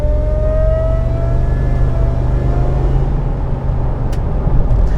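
A supercharged 2003 Ford F150 Harley Davidson pickup drives along, its engine holding a loud, steady low drone with a whining tone that slowly shifts pitch, heard close and alone with no voices.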